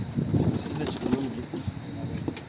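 Soft, low cooing of several pigeons overlaps continuously, with occasional rustles and faint chirps in the background.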